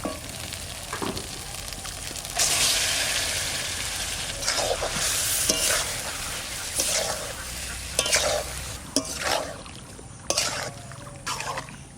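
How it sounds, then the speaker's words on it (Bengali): Chicken pieces frying in a spice masala for restaurant-style chicken maharani, a steady sizzle broken by repeated scraping stirs of the spoon through the pan, close and clear. "হালকা হালকা জাল দিয়ে কষাবো"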